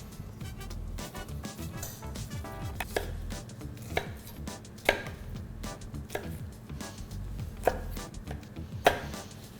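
A knife chops leek, celery stick and onion into medium-to-large pieces, making a rapid run of close, crisp strikes with a few heavier thuds in between. No voices.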